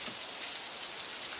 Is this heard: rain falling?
yes